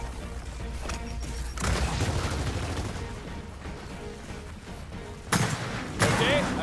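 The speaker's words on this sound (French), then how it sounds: "Attention à l'explosion!" Explosions in the video game Gears of War 4: two sharp, loud blasts with a spray of debris, the first near the start and another late, separated by rumbling combat noise.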